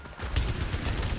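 Gunfire from a weapon in the PS5 video game Returnal rattles out as a dense rapid volley, loud and sustained across the whole moment with no talking over it.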